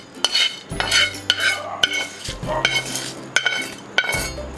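Adai batter with roasted chana dal, curry leaves and asafoetida is stirred in a steel vessel, giving repeated close metallic clinks and scrapes of a spoon against the bowl with wet squelching between strokes, no voices.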